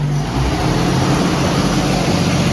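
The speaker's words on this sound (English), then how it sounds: "revving it up" A rebuilt 1930 DeSoto roadster engine roars steadily, revving hard with a rough, throaty exhaust note that stays loud and close throughout.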